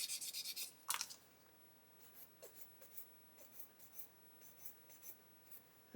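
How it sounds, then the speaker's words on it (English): Quiet, close-up rasping strokes of a sponge sanding a small plastic rod from a 1/8-scale Pocher Porsche 917 model kit, a quick burst of scrubbing followed by lighter, irregular rubs. "now I'm just going to go over it quickly with a sponge"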